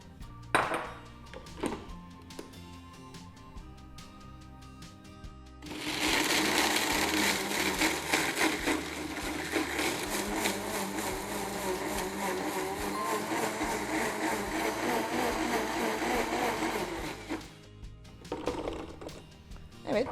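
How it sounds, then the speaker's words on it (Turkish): A food processor grinds dried mulberries into flour for a gluten-free apple cake, a loud steady whirring roar running for about twelve seconds after some quieter handling clatter, then stopping. "tarife dutlarımı un haline getirerek başlıyorum. Robottan geçiriyorum."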